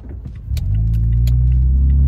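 A Toyota Tacoma V6 with a Runnin4Tacos overland exhaust pulls onto a road, its deep engine drone rising and holding steady as it accelerates, loud and close with a few light rattles over it and no speech.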